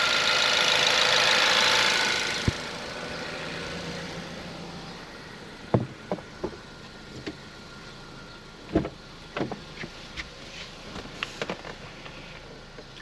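A 2017 Ford Focus engine idles at a steady low hum, with a brief louder stretch at the start and then scattered sharp clicks and knocks over the quiet running.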